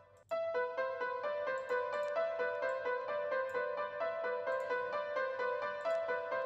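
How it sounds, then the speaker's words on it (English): Nexus software piano run through a low-pass filter in a beat, the chord pattern pulsing in steady repeated strikes, loud and continuous, with its brightness softened. "I love my low pass filter because it just,"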